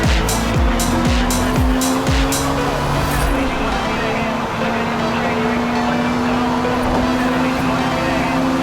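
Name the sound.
1997 Honda Civic Type R race car at Laguna Seca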